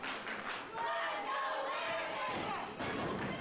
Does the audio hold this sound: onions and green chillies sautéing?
no